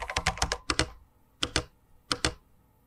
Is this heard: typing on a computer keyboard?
yes